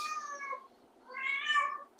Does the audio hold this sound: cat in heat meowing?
yes